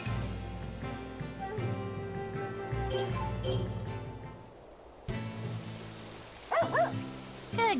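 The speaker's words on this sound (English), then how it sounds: "Good grief. Another doggy." A small dog in Sakuna: Of Rice and Ruin gives a few quick, high yipping barks near the end, over a steady bed of game music.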